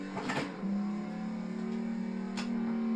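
A car accelerating into a drift turn on a track: a steady engine drone that climbs slightly in pitch as the throttle opens, heard at moderate distance and fairly quiet, with no voices.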